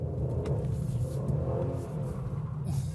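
Sports car in manual mode pulling away in first gear, a steady loud low engine rumble with a throaty drone holding close and continuous throughout.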